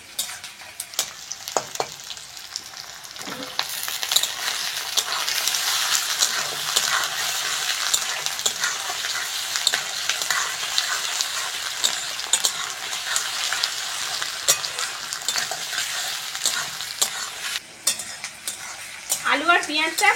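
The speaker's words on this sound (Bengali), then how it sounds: "আলু আর পেঁয়াজটা ভালো করে ভেজে নেব।" Potatoes and onions fry in a pan with a steady close sizzle, broken by frequent scraping and clinking strokes of a spatula stirring them, continuous throughout with a brief lull near the end.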